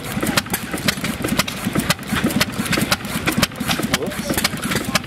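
A 3 HP Standard stationary gas engine running steadily close by, with a rapid regular chuffing and clattering beat throughout and people talking over it.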